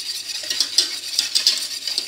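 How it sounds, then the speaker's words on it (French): A spoon stirs milk mixed with lactic ferments in a bowl for homemade yogurt, making a light, close, continuous scraping and clinking with small irregular taps. "Donc on mélange bien"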